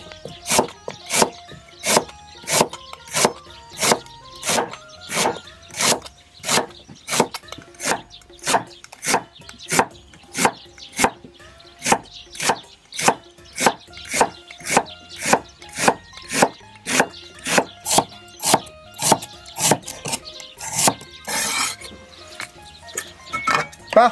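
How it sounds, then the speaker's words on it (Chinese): Old ginger being sliced with a kitchen knife on a board: a steady run of about forty sharp, crisp chops at a brisk even pace, close and loud, with no talking. "老姜切片"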